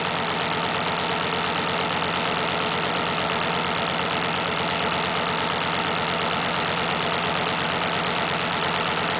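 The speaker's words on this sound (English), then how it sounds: "Sometimes just burning the motor in a situation where you've got these bellows that are uneven like that will help alleviate the problem just by exercising the motor." A pneumatic player piano air motor with uneven bellows runs in, producing a steady, even, rapid pulsing chug that continues unchanged throughout, close and clear with no talking.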